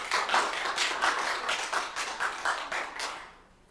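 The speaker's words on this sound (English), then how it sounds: "How come she gets applause and I don't?" A short burst of applause from a small group at a planning board meeting, clapping at a brisk rhythm for about three seconds before fading out.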